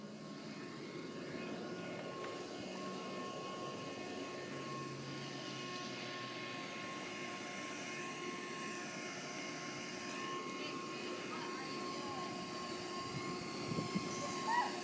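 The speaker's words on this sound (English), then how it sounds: "That's my wife vacuuming our entire lawn of rabbit poop." A lawn vacuum runs continuously across a grass yard, sucking up rabbit droppings, a steady droning motor hum at moderate distance with faint voices underneath.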